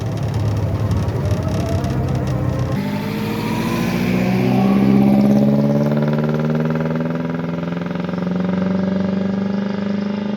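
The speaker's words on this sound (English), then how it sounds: "and the car will move away." Vintage Alvis 12/50 car pulling away from rest on a flat surface and driving off, the engine note rising and falling through the gears, loud and close throughout with no talking.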